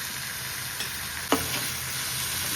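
Tomato chitranna tempering sizzling in a hot pan, a steady frying hiss throughout with a brief sharper burst of stirring near the middle, no voices.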